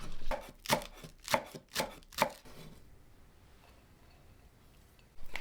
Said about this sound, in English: Chop 3 spring onions, separate the white and the green parts.